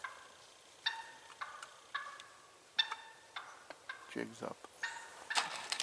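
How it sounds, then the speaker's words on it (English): A wild turkey in a Wisconsin spring woods gives a series of sharp alarm putts, repeated short clucks close by, while someone speaks briefly. "I completely missed this turkey that saw my movement and sent out that alarm putt"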